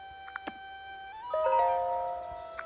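Zedge notification tag ringtone, with a couple of soft clicks and a ding, then a rising, bright electronic chime that swells and lingers before fading, heard alone and fairly quiet.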